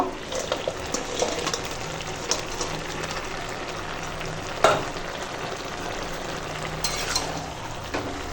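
Boiled vegetables are stirred in a pan before fried masoor dal fritters go in, giving a soft continuous sizzle with scraping stirs and one sharper knock midway, with no talking.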